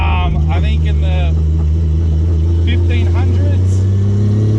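A tuned twin-turbo Lamborghini or Nissan GT-R engine drones loudly and steadily at close range, holding a deep, even note while people talk over it.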